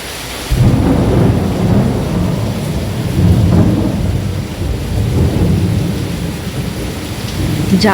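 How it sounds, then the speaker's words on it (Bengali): Heavy rain falls steadily outdoors while deep thunder rumbles loudly and continuously, swelling in several rolling waves across the whole stretch with no voices. "প্রচণ্ড মেঘ ডাকছে আজকে"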